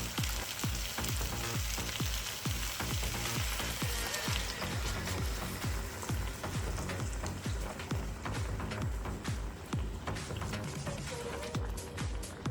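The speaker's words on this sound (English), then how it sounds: "Now we are going to add some milk to the pan." Milk poured into a hot electric frying pan with Swiss steak sets off a loud, dense crackling sizzle that holds steady throughout, close and continuous with no talking.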